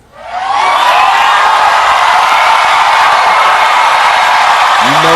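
A large crowd at a Kamala Harris address erupts into sustained applause and cheering that swells within half a second and holds loud and steady, a dense wash of clapping and whoops.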